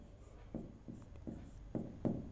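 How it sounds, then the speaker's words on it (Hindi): Chalk or marker writing on a board during a Hindi-language maths lesson on matrices, heard as a series of short scratchy strokes, about six bursts in quick succession, fairly close and quiet. "ये देखो एक बार और लिखता हूं,"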